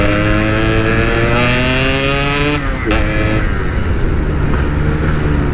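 A Yamaha RX King two-stroke motorcycle engine drones loudly and close while riding, its pitch rising and falling with throttle changes, steady throughout with no talk.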